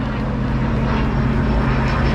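A Sea-Doo GTX iS Limited 260 jet ski engine runs continuously, a loud, steady close-up roar with no voices.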